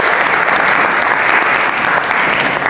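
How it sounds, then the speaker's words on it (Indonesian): A school class claps together in a continuous, loud burst of many hands, steady and dense throughout with no pauses. "Tepuk tangan buat kita semua"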